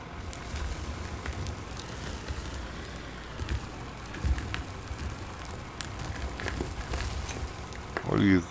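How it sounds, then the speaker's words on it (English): A loaded dump truck in the mining game Out of Ore gives off a steady crumbling, rumbling rattle that persists throughout at moderate level, with a brief voice near the end. "Dump trucks make that crumble sound constantly after they get something in it sometimes."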